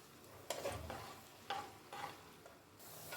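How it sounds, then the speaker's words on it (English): Chopped onions fry in hot palm oil with a soft sizzle, broken by several sharp scraping stirs of a spoon against the pan over a few seconds. "I add in chopped onions. I stir this in for 2 minutes."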